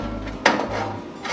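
A wire rack is slid into a 23-liter Hanabishi air fryer oven, one sharp metallic clack near the middle over a low hum, close and alone.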